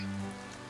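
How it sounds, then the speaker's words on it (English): Steady rain pattering in a visual novel game, a continuous soft hiss of falling drops heard alone at moderate level. "And now rain, rain, go away, come again another day."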